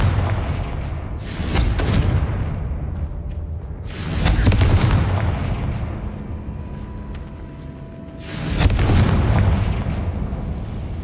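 Three booming blasts from the Confringo fire spell in the Hogwarts Legacy video game, each a loud sudden burst that rumbles and decays over a second or two, spaced a few seconds apart.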